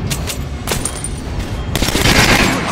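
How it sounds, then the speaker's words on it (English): Gunfire from a weapon aimed at a training dummy in the video game Metro: Last Light, a dense burst of rapid shots rattling continuously and loudly, swelling toward the end with no voices. "Try shooting it with the center of the regular dummy's chest."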